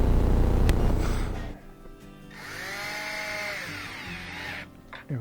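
A power drill drives screws back into a front-load washer, giving a loud whirring burst and then a shorter whine that rises and falls, close up and without speech.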